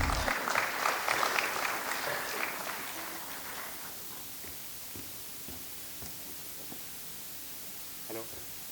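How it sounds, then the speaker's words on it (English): Conference audience at a taxes and compliance event applauds to welcome a speaker to the stage: loud clapping for about three seconds that tapers off into quiet room noise and faint rustling. "can I have all your very big round of applause"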